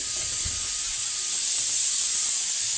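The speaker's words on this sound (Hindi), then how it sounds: "और पीछे मैंने राजमा डाल दिए है कुकर में" A pressure cooker on a gas stove releases a steady, loud hiss of steam while cooking rajma, continuous and unbroken with no voices.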